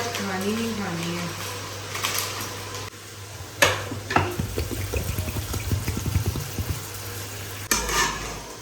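Onions, green chilies and ginger fry in a pan with a steady sizzle, broken by sharp clattering stirs and scrapes of a utensil against the pan, while someone talks over much of it.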